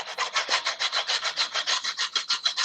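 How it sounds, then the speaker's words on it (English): A sanding block rubs back and forth on wooden parts of a 1/6-scale Nieuport model build, a steady run of quick, even scraping strokes, close and fairly loud, with no talking. "I'm going to take my sanding block"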